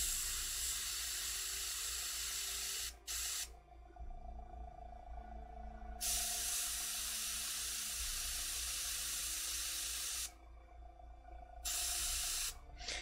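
An airbrush sprays green glow paint in short hissing bursts broken by brief pauses, with a faint mechanical hum running underneath and no talk.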